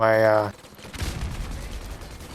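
Gunfire in the Modern Warfare (2019) video game on the Shipment map opens with a sustained tonal burst, then a rapid series of muffled shots and impacts follows, fairly loud.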